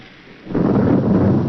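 Deep rumble of thunder swelling in after a quiet start and rolling on steadily with the hiss of rain, filling the rest of the brief moment at a fairly loud level with no voices.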